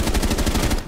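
Automatic gunfire in Rainbow Six Siege, a rapid steady burst of about a dozen loud, close shots lasting under a second.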